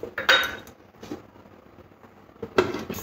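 A lid set onto a cooking pot of vegetarian papaya and potato curry with lentil fritters, giving a couple of short metallic clinks and clatters, close and fairly loud, with quiet gaps between.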